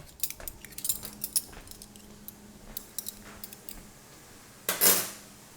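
Metal spoon taken from a kitchen drawer while cooking shrimp and grits, a run of light close jingling clinks followed by one louder clattering rattle near the end.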